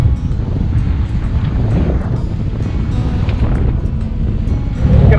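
A sailboat motors at 6.3 knots into 17 knots of wind, with steady wind rush and buffeting on the microphone, a low engine rumble and waves sloshing along the hull, loud and continuous.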